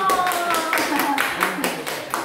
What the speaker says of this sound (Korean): 우리 안수 집사님께 박수 한번